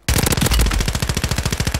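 Automatic weapon fire in Call of Duty: Warzone, a loud, rapid burst of evenly spaced shots rattling close for nearly two seconds, alone without talk.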